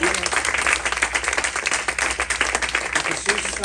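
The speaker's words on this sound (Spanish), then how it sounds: "No sé si le da un aplauso fuerte a Jesucristo, Hijo de Dios." Church congregation applauding during a Sunday service in Panorama City, a busy continuous wash of clapping with a low hum beneath and some voices mixed in.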